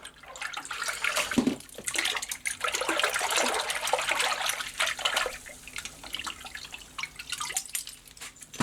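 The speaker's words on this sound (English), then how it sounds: "Good rinse in cold water." Cleaned SU HS2 carburettor parts from a Reliant 850 trike are rinsed under running cold water, a continuous close splashing gush with shifting spatter and drips.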